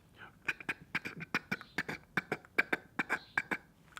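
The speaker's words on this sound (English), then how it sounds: "your basic pecking duck feed call" A rapid string of sharp, clicky feeder-call ticks from a duck call, irregular but quick, close and fairly quiet, with no talking.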